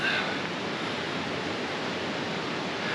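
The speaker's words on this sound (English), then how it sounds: "If you hear that noise, I'm by that water." A stream at the bottom of a valley in Dolly Sods rushes steadily, a continuous broadband hiss of flowing water heard close with no voices.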